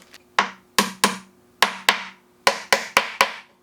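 About eleven sharp, separate wooden taps as dowel rods are knocked into wooden catapult pieces, close and crisp in an uneven rhythm, with no talking.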